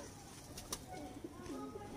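A Salara Teddy pigeon pair gives soft, low coos in a quiet space, with one short sharp tap near the start and faint background hum.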